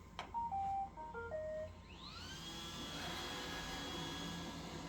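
A vacuum cleaner runs under an old cedar chest, starting with a few short beeps and then rising into a steady, fairly loud whine that holds to the end.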